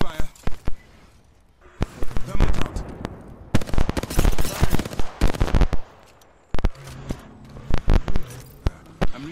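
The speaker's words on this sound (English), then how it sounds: "Somebody shooting at me and I cannot help anything at all." Rapid bursts of video game gunfire crackle in close, irregular volleys, with quieter gaps between the firefights and occasional footsteps.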